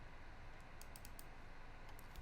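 Keys clatter on a computer keyboard while Android app code for a tip calculator is entered: a quiet, steady patter of clicks over a low hum, with a few sharper, brighter taps standing out.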